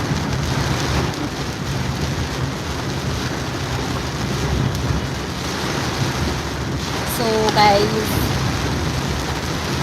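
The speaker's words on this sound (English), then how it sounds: "I'm headed to my office and it's heavily raining, heavily." Heavy rain drums steadily on a car during a commute, a dense continuous wash of noise with wind rush, while someone talks briefly over it.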